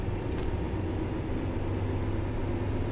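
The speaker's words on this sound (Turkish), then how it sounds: "Otobüsün sesi bu şekilde." A bus engine idles in Euro Truck Simulator 2, a steady low, even rumble with a constant hum, loud and unchanging throughout with no other sounds over it.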